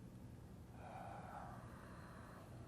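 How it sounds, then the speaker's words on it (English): A slow, deep inhale drawn in through the nose, soft and close, rising then fading, with no speech. "breathe through our bellies, our diaphragm, a deep breathing"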